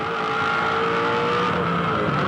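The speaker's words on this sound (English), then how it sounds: "Put you right in the cockpit of a V8 supercar." A V8 Supercar engine drones steadily at high revs from close in the cockpit during a race at Darwin, a sustained loud mechanical howl with no talk.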